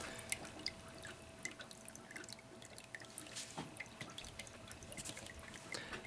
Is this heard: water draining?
yes